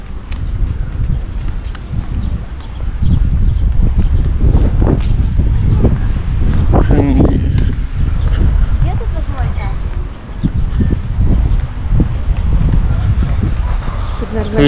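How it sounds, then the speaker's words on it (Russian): Strong wind gusts over a Black Sea beach at Anapa on a wavy day, roaring and buffeting the microphone in loud low bursts while people talk over it. "Ветрище поднялось прям."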